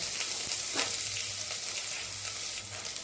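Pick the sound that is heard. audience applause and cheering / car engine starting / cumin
cumin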